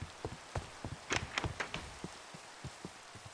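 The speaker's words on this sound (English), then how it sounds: "Yes, the rain. Give me the rain. I love the rain." Rain falling in Minecraft, a soft steady hiss at low volume with scattered, irregular drip-like taps spread over a few seconds and no talking.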